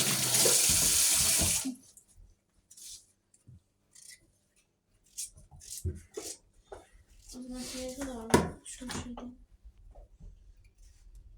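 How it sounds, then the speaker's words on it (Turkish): A kitchen tap runs hard into a sink while potatoes are washed, a loud steady gush for the first moments that then cuts off, followed by close speech and light kitchen handling. "Biz sıcak sıcak suyu açayım da."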